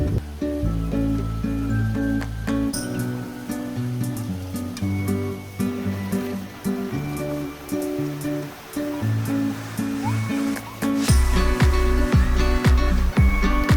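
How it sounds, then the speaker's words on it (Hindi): Water pours from a mountain waterfall near Salalah, Oman, in a steady rushing wash under a layer of background music, loudest toward the end. "ये पहाड़ से गिरती हुई आबशार, साफ़ सुथरा सा पानी और बड़े बड़े से दरख्त बहुत खूबसूरत लग रहे थे।"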